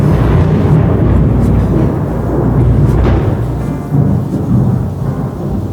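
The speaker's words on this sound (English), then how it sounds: "I kind of like how cozy thunder and rain is" Thunder rolls loud and deep through a rainstorm, a long rumble that swells and fades with a fresh crack near the middle, and rain hisses steadily underneath.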